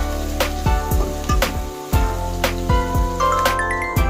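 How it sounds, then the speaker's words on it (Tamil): Onions sautéing in hot oil until golden for a chicken gravy, a constant loud sizzle broken by repeated metallic stirring clanks and scrapes of a utensil against the pan. "வெங்காயம் நல்லா பொன்னிறமாகிற வரைக்கும் நல்லா வதக்குறேங்க"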